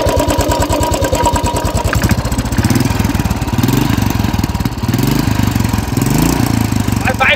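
A Royal Enfield Bullet 500 motorcycle engine runs at idle, heard up close. Its loud, steady, rhythmic thump continues without a break, with a slightly faster, uneven patch partway through.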